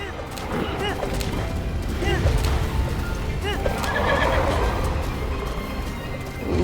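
A horse in the video game Breath of the Wild gives several loud neighs over steady game sounds and hoof clatter, with someone talking over it.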